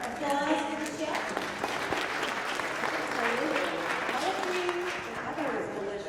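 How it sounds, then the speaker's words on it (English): Audience applause at a school-safety event fills the room steadily for several seconds after a meal is praised, with a few voices mixed in. "Applause for the chef."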